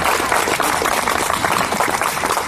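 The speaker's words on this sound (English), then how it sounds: "Applause, please." Applause from a crowd at an outdoor liberty rally in Vermont, a steady dense wash of clapping filling the whole stretch at a constant level with no voices over it.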